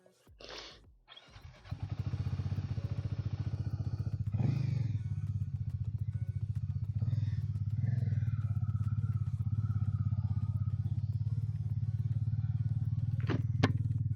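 A motorcycle starts at the outset of a ride through Dooars: an engine catches after a brief clatter, then settles into a steady, close, throaty idle and rumble that holds throughout.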